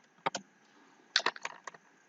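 Keystrokes on a computer keyboard while entering a custom cell format in Excel 2016: two quick taps, a pause, then a rapid burst of several uneven clicks, close and fairly quiet.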